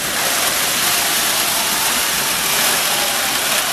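A Williams SD-90 model train locomotive climbs a layout grade under throttle and gives off a continuous, fairly loud broadband whir and rumble that holds steady throughout.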